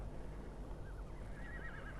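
A horse in the Ark mobile video game gives a wavering whinny that rises over a dense, rumbling game soundscape, moderately loud and unaccompanied by talk.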